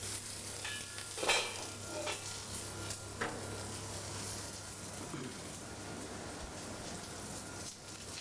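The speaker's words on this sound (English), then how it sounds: "You always want to saute garlic and onions first, just for a little while to break down the flavors and season the pot" Garlic and onions sautéing in oil in a heated wok, a soft, continuous sizzle with a few light clinks of a utensil against the pan, fairly quiet throughout.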